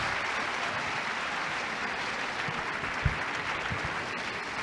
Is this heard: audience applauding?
yes